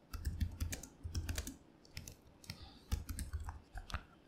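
Rapid computer keyboard typing in bursts, keys clicking in quick runs with short pauses between, close and fairly quiet with no voices.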